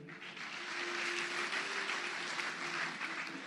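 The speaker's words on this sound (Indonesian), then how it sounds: "Mohon aplaus buat Ibu Sylvia" An audience applauds Ibu Sylvia at an Indonesian wedding-style gathering, with steady, sustained clapping from a crowd, moderately distant, with a faint tone running underneath.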